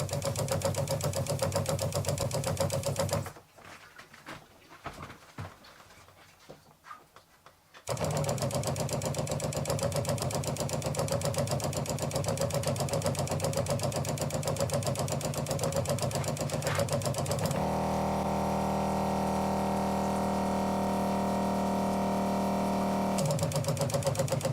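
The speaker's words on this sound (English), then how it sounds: "So far I'm finding it a bit louder than the pump that was in there before." A newly installed USA Adventure Gear 5300 RV water pump runs steadily with a buzzing motor hum, briefly cutting out for a few seconds before resuming, its tone shifting as different taps are opened.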